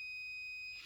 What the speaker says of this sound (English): Switch your meter to continuity mode, which beeps when there's continuity between the wire.